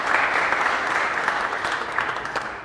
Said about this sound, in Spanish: Un aplauso para Nicolás también.